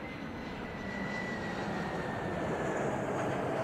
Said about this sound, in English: I always like the sound of plane when they go by